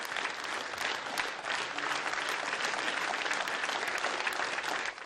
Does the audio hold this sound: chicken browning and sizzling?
no